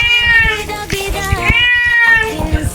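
A cat being bathed yowls repeatedly in loud, stretched-out meows, one after another, close by with some background clatter.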